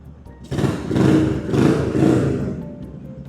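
A Stallion CT 250 motorcycle engine, 2017/18, revs in three deep, throaty bursts close by, then settles back to a low idle.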